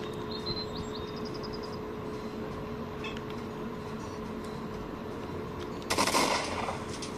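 Gunfire in the video game STALKER Legends of the Zone Enhanced Trilogy arrives as a short loud burst near the end, after a long stretch of steady ambient game hum and faint background effects.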